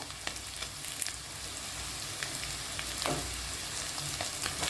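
A wedding-style potato pepper fry with fresh curry leaves is mixed in a hot pan, giving a continuous soft sizzle with occasional scraping strokes from the stirring.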